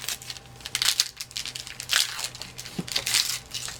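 Crinkling, tearing wrap and heavy tape on a Christmas gift package being ripped open, a steady run of loud close crunching and crackling bursts with no talk.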